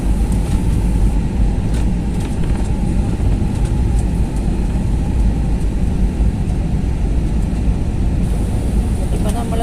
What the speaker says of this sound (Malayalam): ഫ്ലൈറ്റ് താഴ്ന്നുകൊണ്ടിരിക്കുകയാണ്. ഫ്ലൈറ്റ് ഇറങ്ങാറായി.